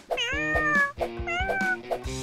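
A kitten meows five times in quick succession, short bright close-up calls, some rising and stretched, with no talk over them.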